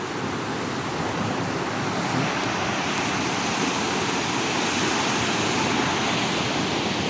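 A river flows steadily on its far bank, a loud, unbroken rushing wash of water close by, with no voices over it.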